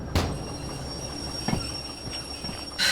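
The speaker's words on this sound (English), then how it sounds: "Alright, let's stop the locomotive here." A locomotive in the train simulator game Derail Valley rolls to a halt, with steady rail rumble and a high whine, broken by a few sharp clanks and squeals near the end.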